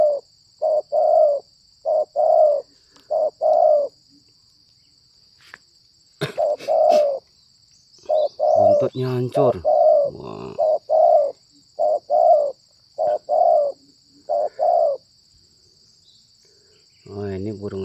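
A zebra dove coos in repeated short rhythmic phrases close by, with a faint insect hum in the background and brief speech interrupting once.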